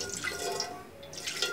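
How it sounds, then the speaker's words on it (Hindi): Water poured into a kadhai (wok) while making maida halwa with cardamom, a steady close splashing and trickling that swells again near the end. "1 कप के करीब हम पानी डालेंगे इसमें"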